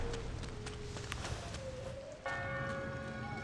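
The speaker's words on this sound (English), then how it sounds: "there's these bells on top of the bridge." Bells atop a bridge in the video game Sky: Children of the Light chime softly under a dense ambient music bed, sustained tones shifting pitch with a brighter chord entering near the end, fairly faint overall.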